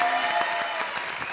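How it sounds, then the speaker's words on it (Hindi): Studio audience applause on a Hindi comedy show, a brief burst of many hands clapping together at moderate loudness, fairly close and fading slightly toward the end. "चलो सोहेल भाई, ताली बजाओ।"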